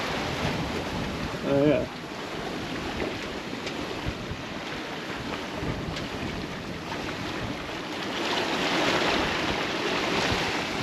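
Wind roars across the microphone and waves wash past the hull of a sailboat in 20-knot winds between St John and St Croix, a continuous rushing swell that builds near the end, with a brief exclamation from a voice.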